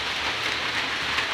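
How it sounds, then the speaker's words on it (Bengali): Heavy rain during an unseasonal storm pours down in a dense, continuous hiss on the surfaces nearby, steady and loud throughout, with no voices over it. "এত বৃষ্টি হচ্ছে"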